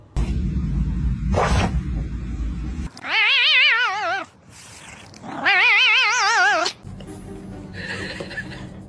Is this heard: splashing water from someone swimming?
no